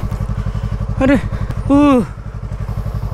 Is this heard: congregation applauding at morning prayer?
no